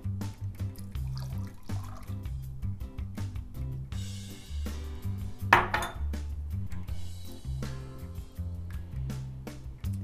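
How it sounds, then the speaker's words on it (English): Water phase of a homemade oat milk lotion being poured into the warm oil phase in a kitchen: a quiet liquid pour among clinks and taps of dishes and utensils, with a louder splashy stretch midway, no talking. "And now we will add the water part to the oil part."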